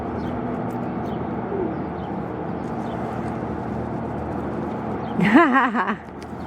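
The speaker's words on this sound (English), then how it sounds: "Got a male pigeon courting a female." A male pigeon courts a female at a marina, a single throaty burbling coo rising near the end, close by over steady outdoor background hum.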